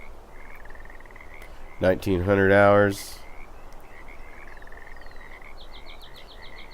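Frogs croak at night at Mosquito Lake in Russian Fishing 4, a steady chorus of fast rattling calls over a background hiss, with someone speaking briefly partway through.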